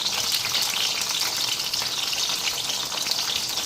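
Cumin seeds, a bay leaf and a dried chilli frying in hot oil, giving a loud, close, continuous sizzle with fine crackling throughout.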